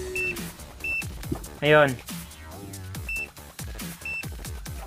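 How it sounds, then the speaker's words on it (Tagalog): A multimeter set to continuity test beeps in short, repeated electronic tones while checking parts of an LED TV with no power, with someone talking over the beeps throughout. "bali na sa continuity test tayo, bali naka-buzzer."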